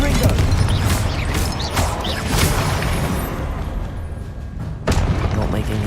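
A Confringo explosion spell in Hogwarts Legacy erupts in loud bursting booms and crashes over a dense, continuous battle din, with a sharp fresh burst near the end and a voice calling out amid the noise.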